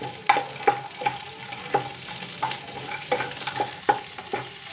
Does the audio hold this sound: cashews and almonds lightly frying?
yes